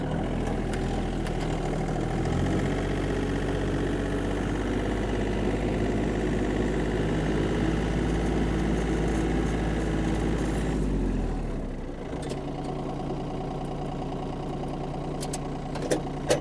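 A Yanmar AF-22 Japanese mini tractor's diesel engine runs steadily with a deep, loud throbbing drone. Its pitch drops and the engine quietens near the end, and a few faint mechanical clicks follow.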